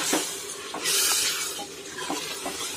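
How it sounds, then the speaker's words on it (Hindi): Urad dal with husks being stirred in a pot of water that is just starting to boil, giving close scraping and swishing strokes over a steady bubbling hiss. "दाल डाल दी हमने सब और इसमें उबाल आना शुरू हो गया है इसको मिक्स कर देते हैं"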